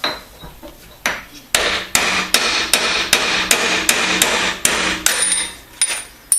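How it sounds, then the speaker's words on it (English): Sharp metal hammer blows knock a broach free from a vise, about a dozen loud, ringing strikes at a steady, fairly quick rhythm, close by and with nothing else heard. "back it off, then knock the broach out."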